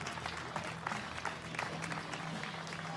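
Crowd applause and cheering for Danish archer Tanja Jensen as she is introduced at a European compound women's bronze medal archery match, a steady dense clapping lasting throughout.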